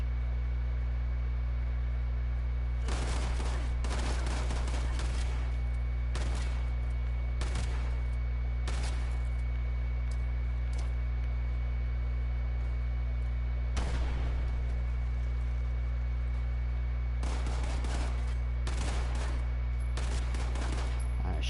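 Scattered bursts of gunfire from the video game Fallout 76, some rapid strings and some single cracks, over a constant low hum, with occasional talk in between.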